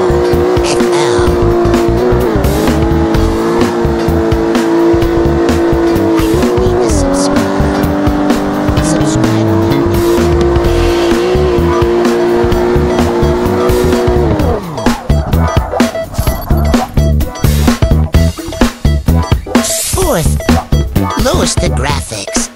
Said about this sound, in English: I use it to practice my drifting instincts.